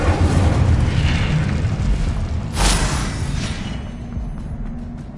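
A fire spell blast in the video game Hogwarts Legacy: a loud, sustained roaring burst with a sharper flare midway, thick low rumble throughout, no talk.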